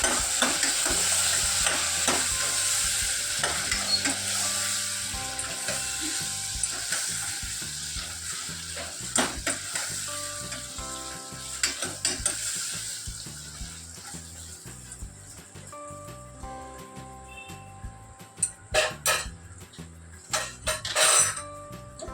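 Elephant foot yam curry, salted and cooked Kathiyawadi style, being stirred in a pan with a soft sizzle and repeated close scraping and clinking of a spoon, growing sharper and more sporadic toward the end, with no talking.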